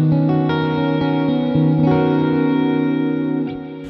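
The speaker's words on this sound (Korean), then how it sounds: "다음은 리버브입니다. 플레이트가 선택되어져 있네요." Guitar played through the plate reverb setting of a BOSS Katana-50 MkII amp, sustained ringing chords with a smooth, lingering reverb tail, loud and continuous, with no talking.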